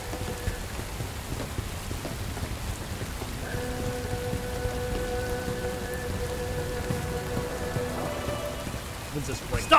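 Steady rain patters continuously in the video game Bright Memory: Infinite, a constant wash of drops with faint background tones and a distant low rumble, and no voices heard.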